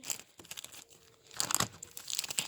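Plastic wrapping on a children's colouring book for ages 3–4 being torn open, with crinkling and crackling bursts that pause and return, loudest near the end and close to the microphone.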